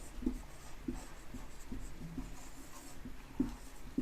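Chalk or marker writing a math solution on a classroom board, heard as faint scattered taps and scratches, close and quiet without voices.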